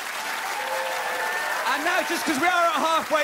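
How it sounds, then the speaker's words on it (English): Audience applause in a comedy tent at a new comedy award show, a steady subdued clapping that swells slightly while someone speaks over it through a microphone. "Please begin, once again, subdued but supportive applause."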